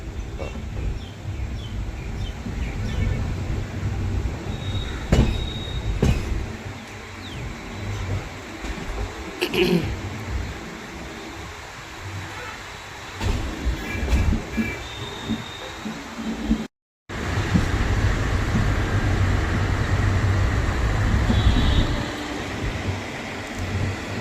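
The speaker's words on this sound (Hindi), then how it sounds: "अपनी ट्रेन करीब 10 मिनट लेट दिल्ली जंक्शन पे अराइव कर रही है" Express train pulling into Delhi Junction station: a steady low rumble of rolling carriages with faint clanks and brief high squeals, loud and continuous apart from a short dropout near the end.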